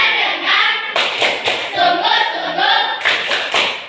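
A classroom of pupils performs a group clapping chant in rhythm, a loud, close burst of many hands striking in a patterned beat that runs for several seconds with brief pauses between phrases.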